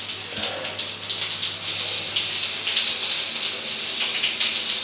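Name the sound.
hotel shower running water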